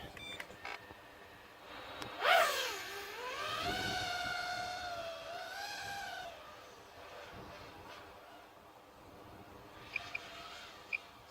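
FPV drone motors on a BLHeli32 ESC running DShot1200 with RaceFlight firmware spin up in a whining, rising and falling pitch sweep that wavers and oscillates, fading to quieter jittery chirps, fairly faint overall.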